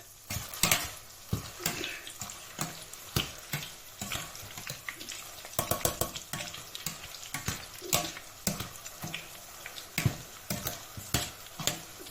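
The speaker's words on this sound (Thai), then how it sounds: "เป็นน้ำมันเก่า ทอดพริกจ้ะ" Chinda chilies fry in old, reused oil for pork laab, with crackling sizzles and repeated scraping and stirring clatters in a pan, close and steady with no talking.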